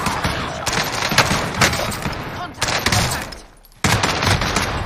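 Heavy gunfire in Call of Duty: Warzone, dense machine-gun bursts and fusillades close up, a short pause, then more shooting, with a player's voice talking over it.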